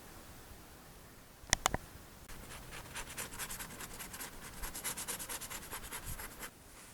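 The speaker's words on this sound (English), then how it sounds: "I gave them all a good quick scrape and a wipe down." Fat being scraped off a drying beaver pelt held on a stretcher, a few sharp knocks followed by a steady rhythmic rasping rub over a low background hiss, close and fairly quiet.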